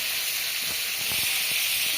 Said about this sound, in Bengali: আমি পেঁয়াজ আর রসুন এদিকে এটা ভেজে নিচ্ছে, আর এইদিকে মাছটা ভেজে নিচ্ছে।